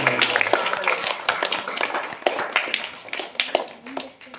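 An audience at a church gathering applauds, a dense patter of many hands clapping steadily for several seconds, with a voice speaking over it.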